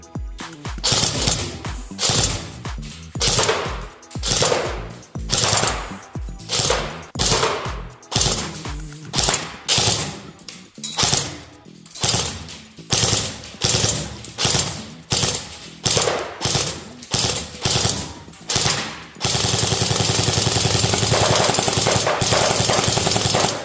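An airsoft M3 A1 Grease Gun with a blowback system fires loud, close bursts on full automatic, about two dozen rapid rattling strings in steady succession, before a constant broad noise takes over near the end.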